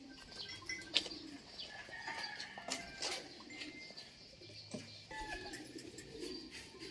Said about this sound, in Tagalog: May mga fancy pigeon pa rin siya rito.